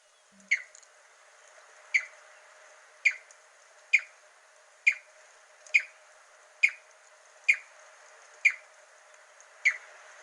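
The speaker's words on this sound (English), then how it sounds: "So you have the loud cohesion call." Yellow-breasted barbet giving its loud cohesion call, a series of ten sharp, evenly spaced bright notes roughly one second apart, each clear and prominent over a quiet background with no voices.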